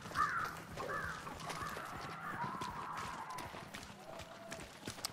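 Ravens caw in a few harsh calls in the video game Hunt: Showdown, heard faintly over quiet ambient game noise and muffled footsteps.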